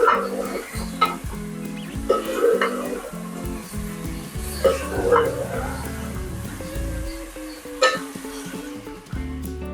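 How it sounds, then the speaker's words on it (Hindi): Chicken being stirred as it fries in a pot for degi qorma, with scraping and soft sizzling under a layer of background music throughout, a few sharper clinks standing out. "एक मिनट चिकन को हिला लें।"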